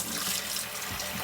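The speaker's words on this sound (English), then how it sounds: "Just pouring in a little bit of water." Water pours steadily into a bag holding a turkey, a continuous bright splashing rush heard close up and on its own.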